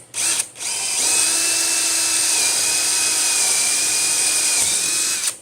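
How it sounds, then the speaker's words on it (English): A cordless drill whines steadily at high speed for several seconds, close up, drilling through a die board after a short initial burst. "I already have a cordless drill set up with a 1564 drill bit"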